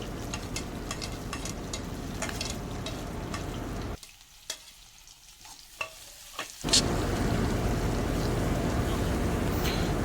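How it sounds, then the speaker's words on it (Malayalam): Onions tossed into hot oil and stirred in a pan while cooking Kerala-style crab curry: a loud, continuous sizzle with scraping, briefly dropping to quiet clicks before surging back louder. "ഉള്ളിയൊക്കെ ഇട്ട് നന്നായി ഒന്ന് മിക്സ് ചെയ്ത് കൊടുക്കുക."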